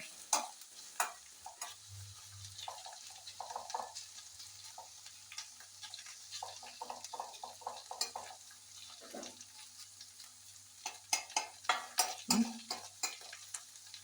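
Okra being sautéed in oil in a pan for an Indian curry; a soft, low sizzle runs underneath while a utensil stirs and scrapes the pan in irregular clinks and taps, close and fairly quiet.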